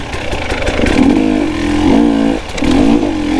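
KTM 300XC two-stroke dirt bike engine revving in repeated throttle blips, rising and falling in pitch with a buzzy, rasping tone, close and loud with no talk.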